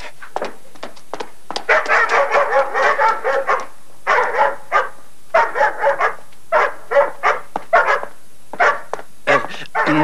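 Several dogs bark in short repeated bursts with whimpering yips, loud and close, the barking coming in irregular clusters with brief pauses between them.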